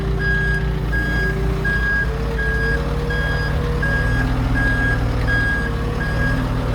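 A wrecked backhoe backs up, its reverse alarm beeping in a steady, evenly spaced rhythm above a loud, close diesel engine rumble that shifts slightly in pitch as it moves.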